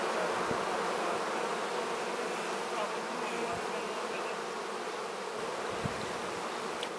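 A giant swarm of honey bees fills the air with a dense, steady buzzing drone, loud and close, unbroken for the whole stretch, with a few faint low thumps beneath and no talking.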